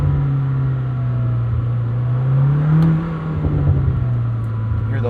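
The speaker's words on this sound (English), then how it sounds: "Hear those couple little burbles there on the down rev." A 2026 Lamborghini Temerario, the 907 hp model, drones steadily in first gear, with a brief swell and a couple of soft burbles as the revs drop, heard close and continuous.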